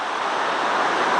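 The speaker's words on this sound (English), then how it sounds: "this is as close as we can get to the waterfall" Waterfall spray near the Merced River rushes as a steady, broad hiss, close and continuous with no voices.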